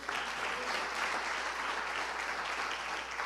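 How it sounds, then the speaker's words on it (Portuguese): A church congregation claps together during an Easter service, a continuous, steady roar of hand claps that holds at an even level throughout, with no voices standing out. "Aplaudamos Jesus."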